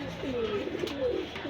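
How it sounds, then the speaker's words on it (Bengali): A pair of Benaras pigeons at a shop coo faintly in low, wavering phrases repeated twice over a steady background hum. "একেবারে অরিজিনাল জিনিস বেনারস কবুতর"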